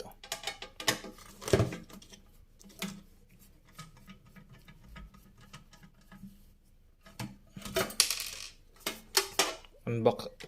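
Screws being removed to open the case of a CCTV DVR recorder, with scattered small metallic clicks, taps and rattles that come in close, irregular bursts separated by quieter gaps.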